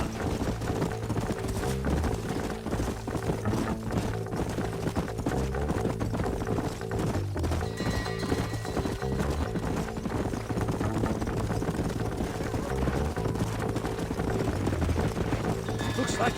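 Horses gallop across open ground in Red Dead Redemption, hooves clip-clopping in a steady fast rhythm for the whole stretch, mixed under game music and background sounds.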